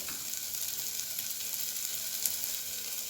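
Palak vegetable bath ingredients frying in a pan, a steady soft sizzle running evenly throughout with no talking.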